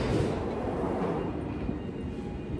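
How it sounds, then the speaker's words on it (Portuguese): A London Underground metro train pulling into a station, a loud continuous rumbling roar of wheels and carriages that fills the platform and holds steady throughout. "Quando o metrô chegou, como está acontecendo agora"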